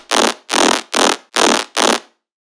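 A dubstep riddim bass patch, dry with no reverb, plays five loud, even, noisy bursts in a steady rhythm, each about a third of a second long, then cuts to abrupt silence.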